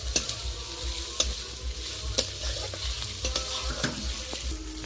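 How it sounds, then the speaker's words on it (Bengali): Onions frying soft in a pan, a continuous close sizzle broken by regular spatula taps and scrapes against the metal. "এবার পেঁয়াজটা বেশ নরম করে একটু ভেজে নিতে হবে।"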